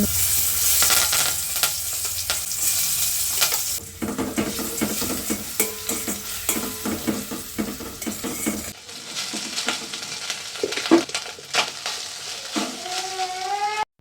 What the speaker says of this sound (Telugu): ఫస్ట్ అయితే ఆయిల్లో స్పైసెస్ అన్నీ వేపించుకుంటున్నానండి